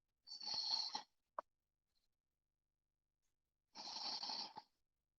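Two slow, hissing breaths of ocean-like Ujjayi yoga breathing sound through a constricted throat, each lasting under a second, quiet and close with silence between them.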